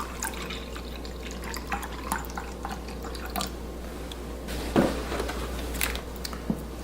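Whole milk poured into a measuring cup for biscuit dough, a steady trickling liquid stream with a few drips over a constant low background hum.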